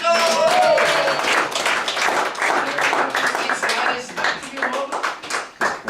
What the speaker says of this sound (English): How about a nice round of applause for Chico?